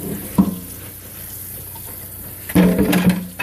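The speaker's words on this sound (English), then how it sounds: "I'm using it in my my sink. And we're just going to rinse all that crap off all the way around." Tap water splashes over a canister filter rinsed in a kitchen sink, a steady close hiss with sharper bursts of splashing as the filter is moved under the stream.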